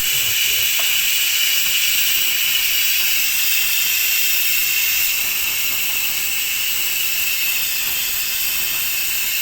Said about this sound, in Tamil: இது நல்லா கொஞ்சம் ஃப்ரை ஆகும்